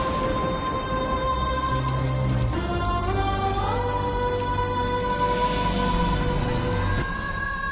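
Heavy rain pours steadily and evenly, a dense hiss of drops on surfaces throughout, with sustained musical tones layered over it.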